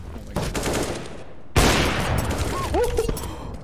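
A Counter-Strike sniper rifle shot fired through a wall for a headshot: a sharp, loud crack at mid-clip followed by a sustained burst of noisy gunfire and game sounds, with a faint voice in the background.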